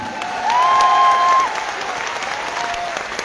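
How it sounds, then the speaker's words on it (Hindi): An audience at an RCM event hall applauds in a dense burst of clapping, loudest in the first half and tapering off, with a brief electronic tone sounding over it. "इन लोगों की तालियों से इस बात का एहसास होता है कि आपके लिए ये आत्मा से दिल से ताली मार रहे हैं"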